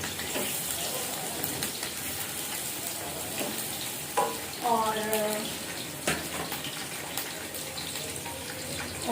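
Hot oil crackles and sizzles steadily in a kadhai as onion goes in to fry for mutton pulao, a continuous close hiss with a brief voice surfacing partway through.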